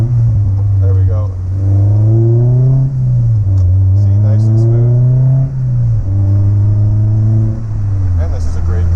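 A Honda S2000 engine revs through a double-clutch downshift into first gear, its loud in-cabin drone dipping and rising in pitch several times, while someone talks over it.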